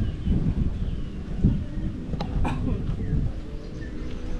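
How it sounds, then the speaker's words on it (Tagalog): Wind gusts across a hillside campsite in Bulacan, making a continuous low, buffeting rumble against the microphone that swells and eases, with a faint brief rustle midway. "Siguro maririnig na yan sa camera ang hangin."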